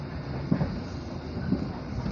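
A KA Dharmawangsa passenger train runs on the Pasar Senen to Lemah Abang line near Cikarang, Bekasi, with a steady rolling rumble and two clear wheel clacks about a second apart, heard from close by.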